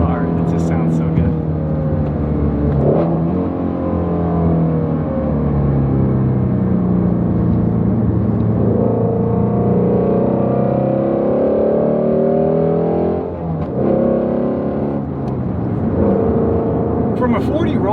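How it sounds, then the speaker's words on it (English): Hellcat Redeye accelerating hard from a 40 mph roll, its supercharged engine droning loud and steady with rising, shifting pitch through the pull, close and continuous. "So from a 40 roll, listen to this car. It just sounds so good."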